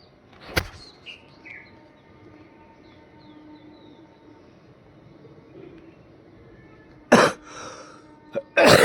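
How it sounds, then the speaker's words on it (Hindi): A sharp cough close by, then quiet with faint birds chirping in the distance, followed by another louder cough burst and a throat-clearing rasp near the end. "खांसी हो रही है"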